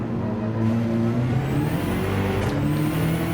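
BMW M6 GT3 race car in Gran Turismo 7, engine note sliding down steadily as it brakes, loud and close, with a thin high whine over the drone and no talking.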